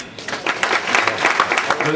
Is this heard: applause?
yes